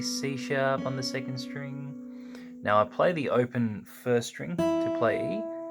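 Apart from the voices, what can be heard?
No everyday noises stand out.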